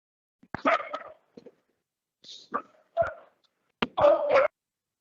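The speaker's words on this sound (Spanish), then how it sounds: "Disculpar este perrito malcriado" A small, badly behaved pet dog barks and yelps indoors in short close bursts, a few high whiny cries between sharp barks, with silence between them.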